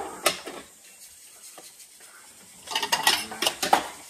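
Dishes and bowls clatter while being washed up, a few scattered knocks at first, then a busy burst of clinking and clanking near the end, close and alone.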